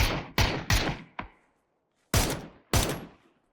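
Gunfire in PUBG: Battlegrounds during a duo fight behind a tree: sharp, loud shots in irregular bursts, three quick ones, a fainter fourth, then two more after a short silence, each with a short decaying tail.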